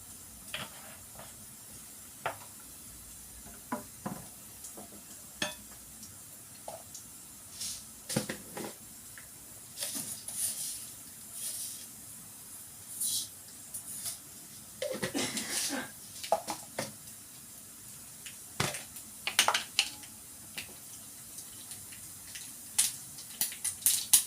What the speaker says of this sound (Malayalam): കടുക് പൊട്ടി വരുന്നുണ്ട്.